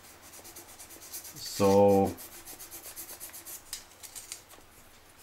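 Guitar frets on a Telecaster being sanded and polished after filing, soft close rubbing strokes with one louder, sharper burst of scraping midway, and a brief word spoken early.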